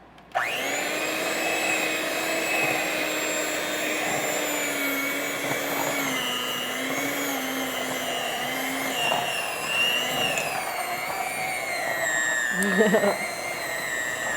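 An electric mixer whirs steadily through peanut butter muffin batter, a loud continuous motor drone with slight shifts in pitch as it works, then a brief clatter near the end.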